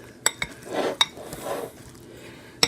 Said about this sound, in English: I think we're going to have to stir it a little bit to make sure that all of it gets wet